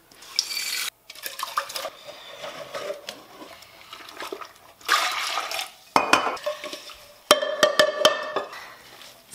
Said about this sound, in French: je vais faire une petite vaisselle